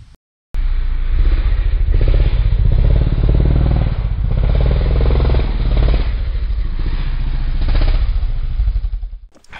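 Yamaha Raptor 700 ATV riding a trail, its engine loud and close with a steady rumbling drone and uneven throttle pulses throughout, running alone without talk until it cuts off at the end.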